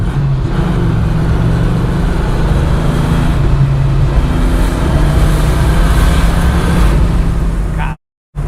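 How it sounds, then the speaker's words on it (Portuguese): A Dodge Viper RT10 engine roars loudly and continuously from close by, a dense, steady drone of engine and road noise that cuts off abruptly near the end. "Acho que esse é o primeiro carro que eu dá medo de acelerar, velho."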